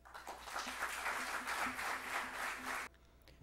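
Audience applause closing a lecture on the origins of the patron saint of Baní, steady moderate clapping from a crowd lasting nearly three seconds and then cutting off abruptly, heard faintly.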